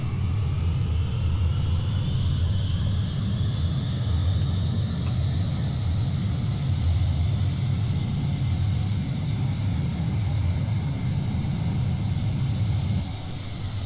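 Jet engine thrust reversers on an ERJ 195LR airliner in X-Plane 10, a sustained loud rumbling roar with a steady whining tone rising slowly, continuous for over ten seconds before dropping briefly at the end.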